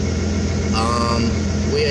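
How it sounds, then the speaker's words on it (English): Turbocharged first-generation car with a straight exhaust rumbling steadily from inside the cabin through an open back window, a low continuous drone with slight pitch shifts. "I have the back window open here, so we can hear that straight exhaust a little bit better"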